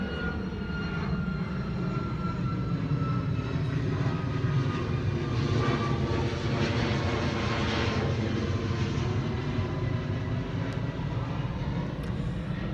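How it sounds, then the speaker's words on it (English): Airplanes pass overhead at Busch Gardens theme park with a long, continuous engine roar that builds and gradually recedes, a deep rumbling drone lasting several seconds. "there's the planes passing above"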